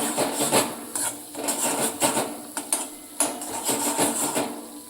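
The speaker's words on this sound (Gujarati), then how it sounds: "આપણે લસણની કચાશ દૂર થાય ત્યાં સુધી આપણે આ રીતે હલાવટ કરવાનું છે જેથી કરીને મરચું નીચે ચોટે નહીં" Garlic and chili mixture stirred in a pan over low heat, with a close, irregular series of metallic scrapes and clinks as a utensil knocks against the pan, with no voices.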